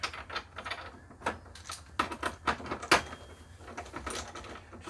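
A ratchet clicks in quick bursts while a bolt is driven in to mount a Toshiba 43-inch TV in an RV, with close, uneven mechanical ratcheting and handling knocks.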